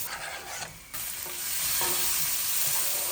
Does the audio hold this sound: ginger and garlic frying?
yes